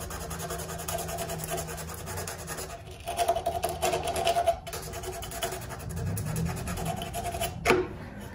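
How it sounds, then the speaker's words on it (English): Sandpaper rubs back and forth on a metal panel of an old 5 hp Toro snowblower, a close, steady scratchy rasping with brief pauses and a sharp scrape near the end. "we'll hit this panel with some sandpaper too"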